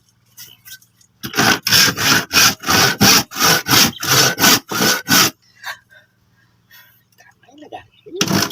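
Rhythmic back-and-forth sawing through wood, about a dozen loud strokes in a steady cadence, followed by quieter scraping and brief handling noises.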